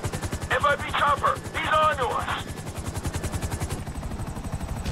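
A police chopper from Grand Theft Auto V beats steadily and rhythmically throughout, with a rapid thudding pulse, while shouted voices break in briefly near the start.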